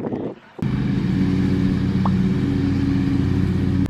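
A tractor engine starting up abruptly after a brief quiet moment, then chugging at a steady, close, loud idle with an even mechanical drone that cuts off at the end.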